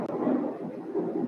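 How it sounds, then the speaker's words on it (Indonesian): A low, rumbling roll of thunder during rain, steady and muffled as if heard from indoors, lasting about a second with no voices. "Di saya sedang hujan ya, hujan ada petir juga."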